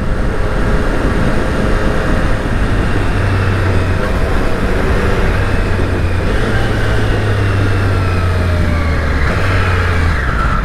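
Engine noise from a 2020 Triumph Street Triple RS on the move, a loud steady drone with wind rush, pitch rising and falling as the quick shifter clicks through gears.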